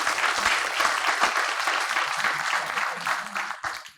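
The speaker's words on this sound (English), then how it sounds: "A big round of applause for our guests." An audience at a consulting conclave applauds its guests, a full, even burst of clapping that stays strong for several seconds and then begins to taper off.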